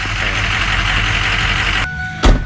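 A diesel engine with a failed EGR cooler idles with a loud, steady rumble, then cuts off abruptly, leaving a quiet tail broken by a short clunk near the end.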